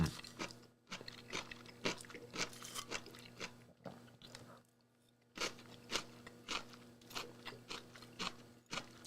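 Crunchy cauliflower being chewed close up, a steady run of sharp crisp bites and crunches with a short quiet gap midway, no talking.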